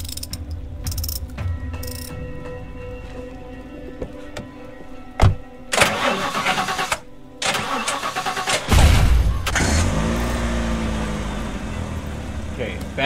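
A badly damaged car engine in a video game cranks with ratcheting mechanical clatter, catches and starts, then settles into a rough running rumble. The sequence is close and fairly loud, with no talk over it.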